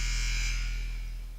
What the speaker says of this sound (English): That buzzer means it's time for the third quarter here at Kalaheo High School